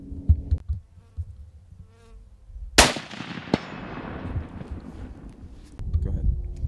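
A single rifle shot fired at a 200-yard target with a Ranger LRH 1000, a sharp loud crack followed by a decaying outdoor rumble, with quiet handling noises before and after.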